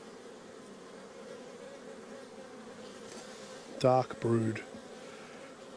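Honey bees drone in a steady, close buzz throughout a spring hive inspection of a weak colony, with a short spoken remark briefly over the hum near the end.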